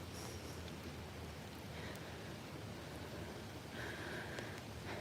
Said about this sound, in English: the rain is picking up and I'm soaked to my little kitty bones